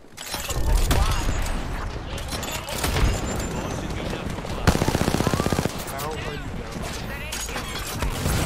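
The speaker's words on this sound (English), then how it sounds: "I'm taking fire." Automatic weapons fire in an Apex Legends ranked match: dense, rapid bursts of gunfire with a sharp rattling volley midway. Players' voices are heard among the shots.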